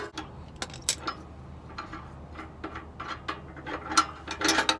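A ratchet wrench working on muffler nuts and bolts under a Subaru WRX: rapid uneven clicking and metallic ratcheting bursts, close and moderately loud, with no talking.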